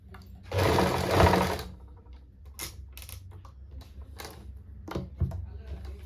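Electric sewing machine stitching a kurti seam in a short whirring burst of rapid needle clatter, followed by quieter ticks and clicks of handling the fabric and machine.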